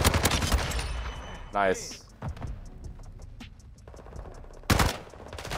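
Rapid bursts of TR-76 Geist assault rifle fire in Modern Warfare 2 crackle through mid-distance combat, with a mechanical whir, sharp cracks, and a player speaking briefly over the action.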